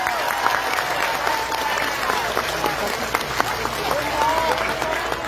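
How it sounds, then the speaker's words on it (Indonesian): Steady applause from a crowd at a preacher's religious gathering in Taiwan, cheering for BMI, with continuous clapping and crowd voices mixed throughout. "Tepuk tangan untuk BMI"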